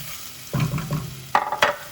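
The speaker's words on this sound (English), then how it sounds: "you need to turn it to medium-low and slow cooking the onion" Onion cooks in a pan on a strong stove turned to medium-low, a soft sizzle broken by a few scraping stirs, one around the middle and two sharper ones near the end.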